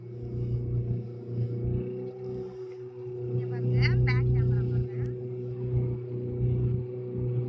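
A motorboat engine rumbles steadily and up close as the boat travels through the Pichavaram mangrove forest near Chidambaram. It is a low, continuous drone, and people talk over it.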